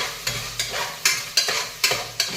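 Onion frying in a pan for chicken donne biryani, with a spatula stirring through the hot oil in six or seven regular scrapes over a steady sizzle, close and fairly loud, no talking.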